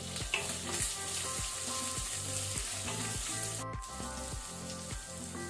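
Onions frying in oil over a medium flame make a dense, even sizzle with a steady pulsing stir-like pattern, close and continuous throughout with no voices.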